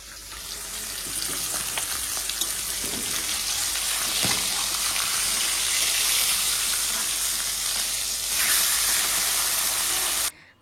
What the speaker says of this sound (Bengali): মাছটা ভেজে নিচ্ছি, দিয়ে তরকারি বানাবো।